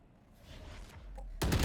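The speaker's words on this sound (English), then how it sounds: "Oh, and the gunfire is coming through." Gunfire in the video game Valorant during a school esports match: faint rustling background, then a sudden loud, brief burst of shots right at the end.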